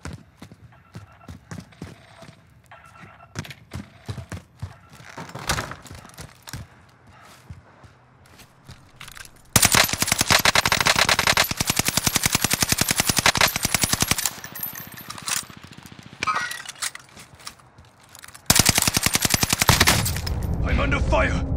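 Dense automatic and single gunfire from a Call of Duty: Warzone trios match, sharp rapid bursts with two loud sustained volleys near and quieter scattered shots and footsteps between them.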